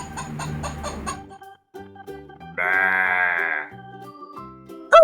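A cartoon sheep on a pretend-play farm gives one loud, drawn-out bleat in the middle, set among music and other short animal calls, with a sharp cry at the very end.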